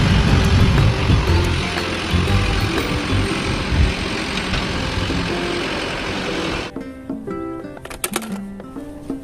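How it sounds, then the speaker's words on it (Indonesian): A toy sand truck's engine noise rumbles loudly and continuously for most of the clip, fading slightly before a short musical jingle takes over near the end. "lihat teman-teman, ada mobil truk pasir"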